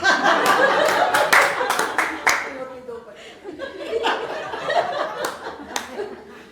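Comedy show audience clapping and laughing in bursts, a dense round of applause at the start that fades, then scattered claps and chuckles under a performer's voice.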